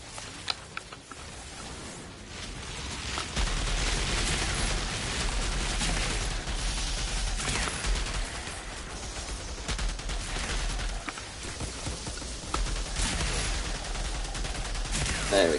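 Sustained rapid gunfire from the player's upgraded weapon in the shooter game Outriders, loud and dense bursts rattling almost continuously with scattered impacts, no pauses.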